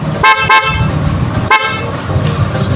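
A car horn sounds loud and close in three short honks, two in quick succession then one more, over a running engine.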